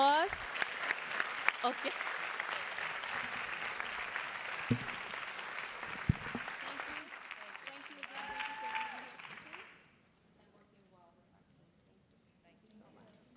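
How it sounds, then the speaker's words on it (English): A board of education meeting crowd gives teachers a loud, sustained round of clapping and cheering that fades out near the end, leaving a quiet room with faint talk. "Let's give our teachers a big round of applause."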